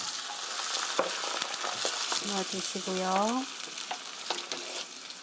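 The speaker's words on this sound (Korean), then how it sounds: "양파가 이렇게 노릇노릇하고 맛있게 투명하게 볶아졌으면" Onions sautéing in a pan for Korean braised eggs give a steady sizzle with stirring clatter, while someone speaks briefly over the frying.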